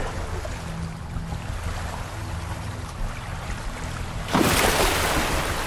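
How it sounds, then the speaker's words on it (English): An ocean wave, pushed up by an approaching orca, surges over Arctic shoreline rocks; a steady wash of wind and water builds to a louder rushing break near the end, with no voices. "A wave generated by the approaching orca sweeps over the rocks, pushing a juvenile seal into deeper water."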